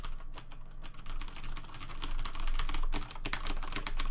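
Quick, irregular clacking keystrokes on a Das Professional mechanical keyboard with Cherry MX Blue switches, close and fairly quiet, with taps growing denser and louder toward the end.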